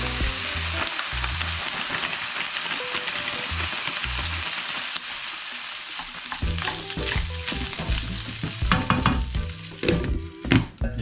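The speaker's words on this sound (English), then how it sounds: "Add our Tilda egg fried rice." Tilda egg fried rice sizzles steadily in a hot pan, with repeated stirring scrapes and clatters growing busier and louder toward the end; no voices.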